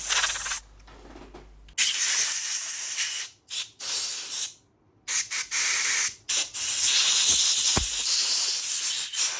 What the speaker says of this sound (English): Giving the carburetor a final blow through to remove any residual cleaning solution.